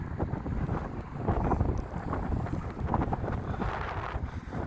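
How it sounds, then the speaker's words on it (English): Strong wind buffets the microphone on a rainy seaside promenade, a steady loud rumbling roar with gusts swelling and easing throughout, no voices. "thinking it won't be as windy, and it's even worse sometimes"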